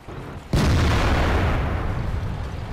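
World of Tanks match with a Waffenträger auf E100 tank destroyer's autoloading cannon firing, a single sudden heavy boom that leaves a long roaring, rumbling decay, loud over steady game background noise.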